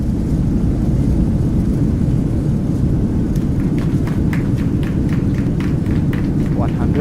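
Airliner engines roar in reverse thrust after landing in a flight simulator game, a loud, sustained broadband rumble, while short clicks and chirps from the cockpit break in over the noise.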